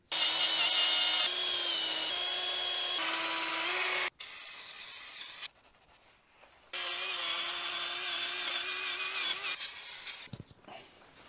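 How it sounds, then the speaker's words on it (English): Power wire wheel scrubbing a BMW M2 wheel hub sprayed with brake cleaner, a loud whining, grinding whir in two long bursts separated by a brief pause, close up with no speech. "first we're gonna use the wire wheel with some brake cleaner"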